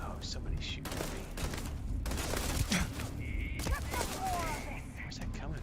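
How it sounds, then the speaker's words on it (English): Gunfire in Starfield: Shattered Space rattles in quick bursts and scattered shots at moderate distance amid game ambience, with a voice speaking softly over parts of it. "Oh, somebody's shooting at me."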